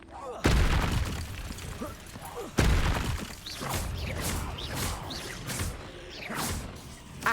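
A fire spell from Hogwarts Legacy bursts out in two sudden booming whooshes near the start and a few seconds later, followed by crackling, swishing magic effects under ongoing speech.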